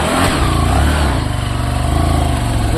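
A motorcycle engine runs steadily close by on a village outing, its continuous mid-pitched drone rising and falling slightly as it revs, loud and with no talk over it.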